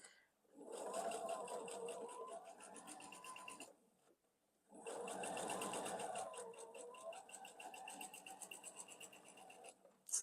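Sewing machine stitching a triangle onto a quilt block, two steady runs of rapid mechanical whirring separated by a short pause, close and fairly quiet.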